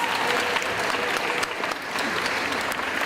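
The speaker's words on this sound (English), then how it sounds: "Let's clap." An audience claps steadily for girls' cross country team members at a school fall athletic awards ceremony, a dense, sustained round of applause that fills the room with no speech over it.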